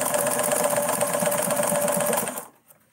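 A Morse 4400 sewing machine runs steadily with a loud, rapid mechanical chatter and rhythmic thumping of the needle, then stops abruptly, leaving near silence.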